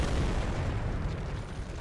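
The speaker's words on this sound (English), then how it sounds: "Wow, we're looking at cannon fire." Cannon fire from the video game Elden Ring, a continuous loud, rumbling low boom that fills the whole stretch without pause.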